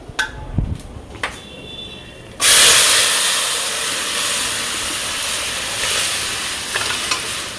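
Dal poured into a hot pan with tempering sets off a sudden loud, steady sizzle and hiss that carries on while it is stirred, after a few light clinks and scrapes at the start.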